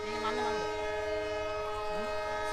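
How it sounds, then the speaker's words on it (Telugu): An express train stands at the Rameswaram station platform, its horn sounding as a loud, steady sustained blast through the whole moment over low engine rumble. "సో మన ట్రైన్ అయితే రామేశ్వరం నుండి బయలుదేరుతుంది"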